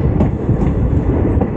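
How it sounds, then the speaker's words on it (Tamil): Vasco da Gama–Velankanni Express pulling out of Birur Junction, heard from inside an AC three-tier coach: a loud, steady rumble with a rhythmic clickety-clack of wheels on rail joints, and no voices. "ஸோ பிரூர் ஜங்ஷன்லேருந்து கிளம்பிட்டோம்ப்பா."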